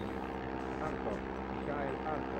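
An airplane in the 007 The World Is Not Enough video game gives off a steady, droning engine hum that fills the whole stretch, with a voice talking over it.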